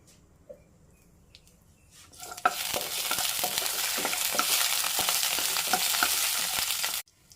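Cashew nuts go into a hot pan for payasam and start roasting with a sudden sizzle and frying crackle. It runs steady and close for about five seconds, then cuts off.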